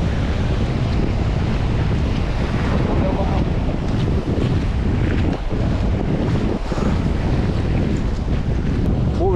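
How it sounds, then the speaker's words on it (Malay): Strong wind buffets the microphone on an island beach at Pulau Bunta, Aceh Besar, during a fishing and camping trip, a constant loud roar with low rumble and surf-like wash throughout the clip. "Aku dah lawan angin."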